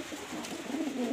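A male pigeon coos close by near a caged female, giving a brief run of soft, low, throaty coos.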